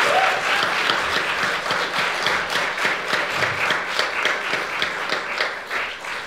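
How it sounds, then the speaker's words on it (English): Film festival audience applauding the visiting directors, dense and loud sustained clapping from a large crowd filling the whole stretch with no talk over it. "Can we give them all a round of applause,"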